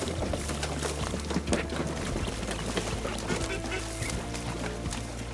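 Banded ducks being released at a creek quack in steady, clustered calls over a continuous low background rumble, fairly close and moderately loud.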